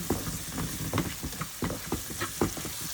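Spices fry in a pan while being stirred, crackling and sizzling steadily up close, with repeated scraping strokes of the spoon in an uneven rhythm.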